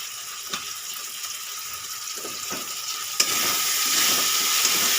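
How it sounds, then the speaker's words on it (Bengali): Chili and cumin powder fry in a pan for fish-head curry, a steady bright sizzle with occasional stirring scrapes, growing louder and fuller after a sudden burst partway through. "মশলাটা কষিয়ে নেবো"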